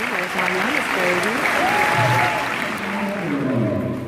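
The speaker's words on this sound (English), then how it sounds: "If you would also give them a round of applause." A crowd gives a full round of applause at a school ceremony, loud and sustained, with voices talking and calling out over the clapping.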